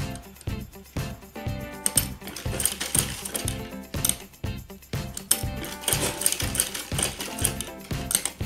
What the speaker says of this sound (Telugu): మధ్యలో కుట్ వేసుకోవాలి.